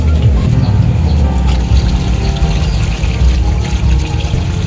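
Water gushing and splashing steadily from a newly connected water supply line at a rural hut, a continuous close pour with no clear pauses.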